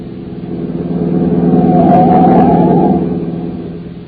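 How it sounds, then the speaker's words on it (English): A car speeds up from behind and roars past, its engine swelling from a distant rumble to a loud peak mid-pass and then fading away down the road. "there's a car coming up behind us like fury"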